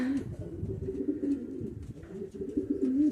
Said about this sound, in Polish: zobaczcie sobie, siedzą sobie gołąbki ładnie